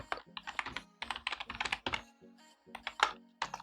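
Someone types on a computer keyboard while writing a Python string program, producing close, crisp clicks in quick rapid runs with short pauses between them, and no talking.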